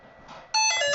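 A Fimi X8 drone powering off gives a loud electronic tonal beep that starts abruptly halfway through, after a quieter stretch, with steady harmonic tones and no talk.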